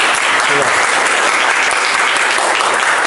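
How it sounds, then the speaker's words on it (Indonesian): A classroom group claps for a presenting team, loud dense applause that fills the whole moment evenly from start to finish. "Kita kasih aplaus untuk kelompok"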